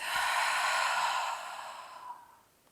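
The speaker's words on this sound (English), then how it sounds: "open your mouth and release all the air out" A deep exhale pushed out through an open mouth during a restorative yoga session, a steady breathy rush that holds for over a second and then tapers off softly, close and alone.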